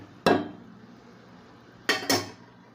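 A metal spoon clanks against a pot while stirring curry, one sharp knock followed later by two close knocks, loud and ringing against a quiet background.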